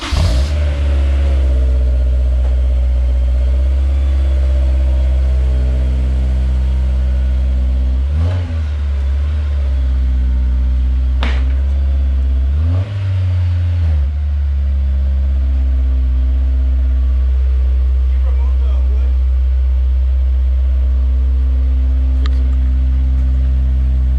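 Honda S2000 idling after a cold start through a J's Racing 60RS dual titanium exhaust, a loud, steady close-up drone with a couple of brief rises in engine note.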